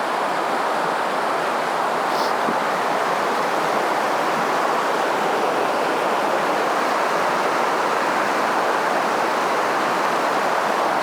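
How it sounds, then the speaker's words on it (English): A small river flowing through a channel, a steady broadband rush of water that stays constant and fairly loud with no breaks. "So this is the river."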